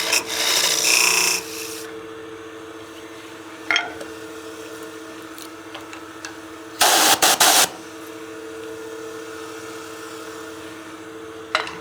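Woodturning scraper cutting wood on a lathe while turning a pot, with short harsh rasping bursts at the start and again near the end, separated by quieter humming stretches.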